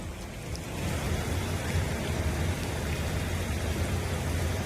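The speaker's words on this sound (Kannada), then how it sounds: "ದೆಹಲಿಯಲ್ಲೂ ಭಾರೀ ಮಳೆಯಾಗಿದೆ." Heavy rain falls during flooding in Delhi, a dense, continuous hiss of downpour with a low rumbling undertone, steady and fairly loud throughout, with no voices.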